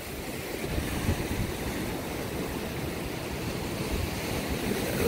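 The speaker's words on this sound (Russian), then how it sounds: "Полюбуюсь на волны." Steady roar of Black Sea surf washing in continuously over rocks near Tuapse, broad and unbroken with wind noise over the microphone, no voices.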